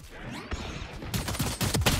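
A rapid burst of gunfire in the video game Valorant, several sharp close shots fired in quick succession over a short stretch, loud and dense.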